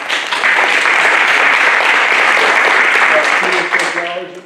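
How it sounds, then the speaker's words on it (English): An audience at a 2022 Humboldt County district attorney debate breaks into sustained, loud applause filling a hall, dense clapping that holds steady for several seconds before tapering off. "Alicia Manriquez, and we can applaud"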